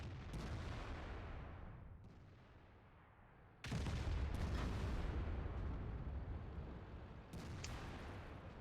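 Tank cannon shots ring out in a clan league tank game match, a loud sudden blast followed by rumbling decay, then another heavy report and a later sharp crack, with no talking.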